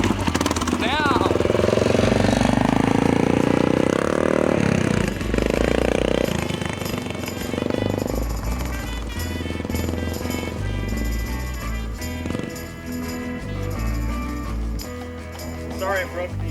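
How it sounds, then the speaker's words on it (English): A dirt bike engine runs with a loud, choppy, rattling exhaust that rises and falls in bursts and then settles into a rougher idle, while people talk over it. "I finally have a dirt bike now to go riding with you guys"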